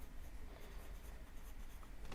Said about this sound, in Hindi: अब जो येलो और ग्रीन के बीच में जो है इसमें आपने लिखना है येलो ग्रीन।